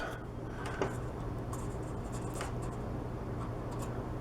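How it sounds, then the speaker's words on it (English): Adhesive tape is peeled slowly off the back of a repaired stained glass panel, giving faint, close scratchy rasps and soft ticks over a low background hiss. "removing this tape, just carefully just peel this off"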